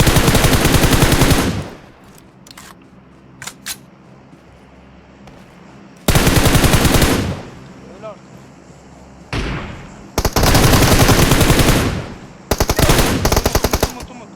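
Bursts of automatic gunfire from PUBG Mobile, loud sustained volleys lasting a second or two each, separated by quieter gaps with a few isolated shots, repeating several times through the stretch.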